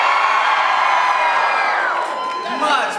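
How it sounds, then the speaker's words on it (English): Spirited crowd at a convention panel, Manifest 2011 in Melbourne, cheering and whooping loudly and continuously for about three seconds, a dense wash of voices up close with no single speaker. "I love the spirited crowd."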